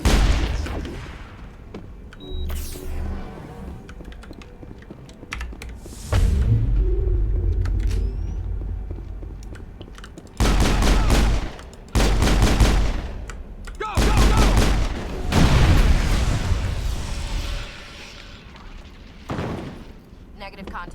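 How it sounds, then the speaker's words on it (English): Gunfire during a Mass Effect firefight on Noveria, with repeated loud shots and bursts mixed with game effects, music and a booming backdrop, and game voices speaking between volleys. "Good thing I can just shoot her in the leg a couple of times."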